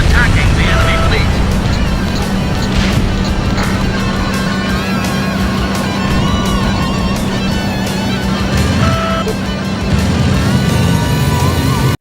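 Supermarine Spitfire piston fighter engine in an Ace Combat game, a steady loud drone that holds throughout with some tonal whines and radio-style voices over it.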